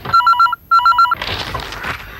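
A landline telephone rings in two bursts of rapid trilling bell pulses, loud and close in an indoor home, then gives way to muffled room noise and movement.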